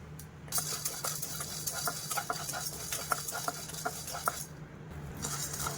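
Chana dal and coriander seeds dry-frying in a kadai, a steady low sizzle with a spoon scraping and tapping against the pan in a loose, repeated rhythm, close and fairly quiet.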